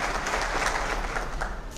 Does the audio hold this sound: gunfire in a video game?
no